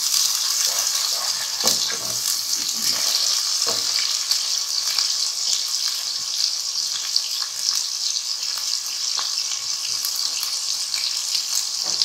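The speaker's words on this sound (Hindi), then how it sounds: "अब हम इसमें ये जिंजर गार्लिक पेस्ट जो हमारा थोड़ा सा हमने इसमें भी ऐड करना है" Ginger garlic paste sizzles steadily in a pan of chicken tikka lacha pulao, a continuous close hiss of frying with a few soft stirring knocks, no voices.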